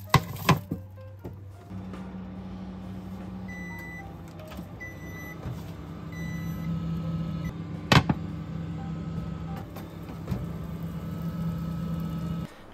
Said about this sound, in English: I'm gonna microwave these.